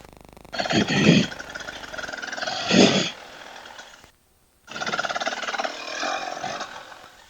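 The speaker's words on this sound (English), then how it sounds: "But I like this two-stroke. It just lugs so nice." A 2024 KTM 300 TBI two-stroke hard enduro dirt bike lugs at low revs on a snowy Pacific Northwest trail. Its uneven, rumbling engine note swells and fades in bursts and cuts out briefly partway through.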